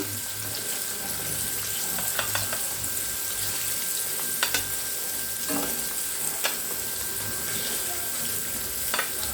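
Paneer pieces fry in a hot pan with a steady, hissing sizzle throughout, broken by a few sharp clicks and scrapes as the pan is handled, with no talking.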